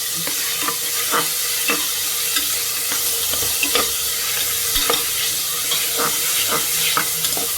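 Tomatoes for biryani stirred in a hot frying pan, steady sizzle and frying hiss with repeated scraping strokes of a spoon throughout, close and continuous, no talking.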